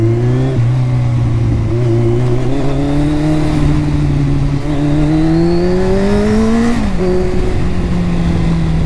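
A superbike engine revs in traffic, with a loud, continuous exhaust tone that climbs and dips in pitch and a sharp drop near the end; distinct pops are not clearly separated from the drone.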